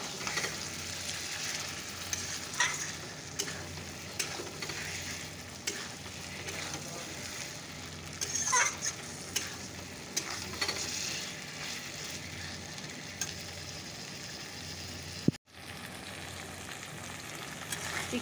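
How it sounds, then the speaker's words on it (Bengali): Chicken pieces being stir-fried and browned in a pan, a steady sizzle with repeated scraping and stirring of the spatula throughout, close and fairly quiet, no voices. "এবার ভালো করে কষিয়ে নেই চিকেনটাকে।"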